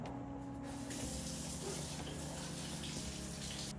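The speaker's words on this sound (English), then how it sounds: "And then you want to run this over cold water." Cold tap water runs steadily over a stovetop coffee maker as it is rinsed, a continuous, full splashing gush that holds at an even level throughout.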